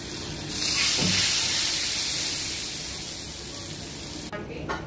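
Pachon vegetables being stirred in hot oil with dried red chilli, asafoetida and five-spice tempering, a loud steady sizzle and hiss with scraping stirring strokes, close up.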